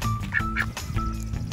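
Ducks quacking as they eat black soldier fly larvae. A few short, close quacks sound in quick succession over a busy background.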